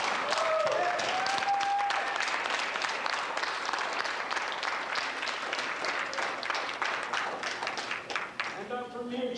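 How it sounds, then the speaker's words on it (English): Audience at a tattoo convention in Conroe, Texas applauds a judge as she is introduced, a steady wash of many hands clapping that holds for several seconds, then thins out as a voice returns at the end. "Please, an applause."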